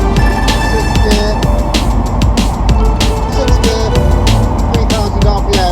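Sleeper Volvo 240 with a swapped-in V8 engine accelerating hard in sixth gear, a loud, steady engine roar with road and wind noise inside the car.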